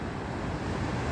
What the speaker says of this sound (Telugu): సముద్రం సౌండ్ వినపడుతుందా మీకు?